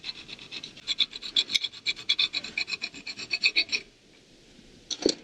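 A hand file rasps a sharp metal edge smooth with about twenty even back-and-forth strokes, loud and close, then stops, followed by a single clink.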